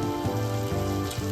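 Okra hits a hot pan in a Sri Lankan curry and gives off a brief, continuous sizzle and crackle, close and fairly quiet, with no talking.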